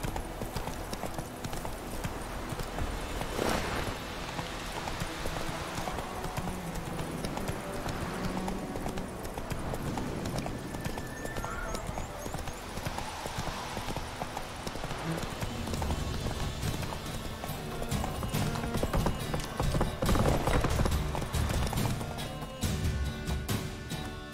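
Horse hooves clip-clop continuously in The Witcher 3: Wild Hunt, a steady close trotting rhythm running throughout beneath game ambience and music, with no talk.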